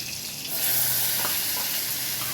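Curry leaves and field beans sautéing in hot oil for a Maharashtrian usal, a bright steady sizzle that flares up after a quieter start and keeps crackling close by without any talk.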